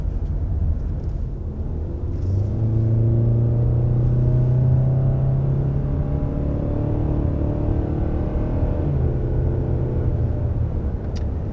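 Engine of a 2022 Hyundai Santa Fe XRT with an 8-speed automatic while driving, a steady in-cabin rumble with tones that rise and fall gently as it shifts through gears.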